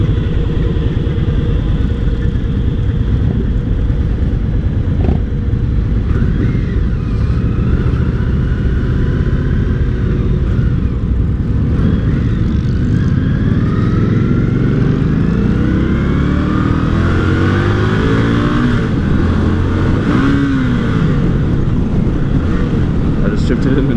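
Indian Scout 60 motorcycle accelerating hard from the saddle, engine note climbing in rising sweeps through several gears over heavy wind noise, loud and close throughout, then easing off toward the end.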